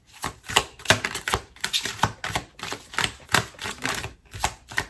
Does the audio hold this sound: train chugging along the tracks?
no